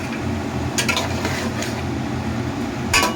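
Potatoes stirred through frying country chicken in a pan, with a steady low sizzle and a few scraping, clattering strokes of a utensil against the pan.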